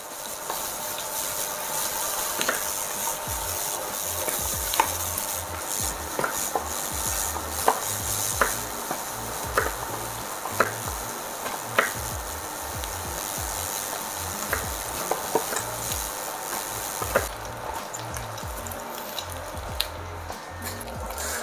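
Sea bream fillets sizzle in a pan under a steady frying hiss, with a spatula or utensil tapping and scraping in irregular clicks, close and continuous, with no talking.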